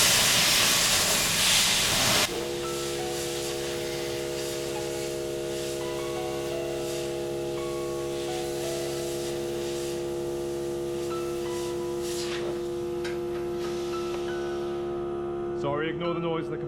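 An air compressor hums with steady harmonic tones alongside the continuous hiss of a hot air gun. The hiss is loud and broadband at first, then drops off and leaves the compressor droning on in a workshop during bodywork on a custom car hood.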